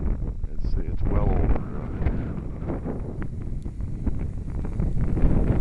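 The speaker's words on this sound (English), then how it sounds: "Now the wind is picking up pretty good." Strong wind gusts buffet the microphone outdoors while a Blade mQX quadcopter is flown in 7-11 mph wind, producing continuous low rumbling blasts that swell and ease, with someone talking over them.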